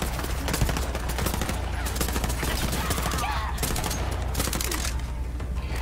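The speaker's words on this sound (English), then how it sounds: "Ooh, burst fire." Rapid gunfire from burst-fire weapons in the video game Borderlands 3, a dense, continuous crackle of shots lasting throughout at steady loudness with no talk.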